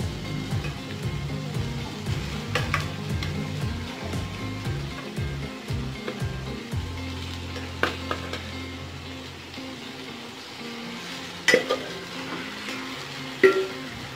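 Marinated silver pomfret fish fry in masala in a pan, with a soft steady sizzle and periodic stirring scrapes that fade into quieter hissing, plus a couple of sharp utensil clinks near the end, and no voices.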